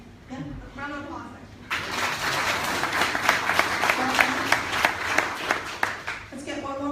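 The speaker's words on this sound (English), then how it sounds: "Round of applause." Short, lively audience applause bursts in and carries for several seconds with crisp individual claps, with a voice speaking briefly just before and after.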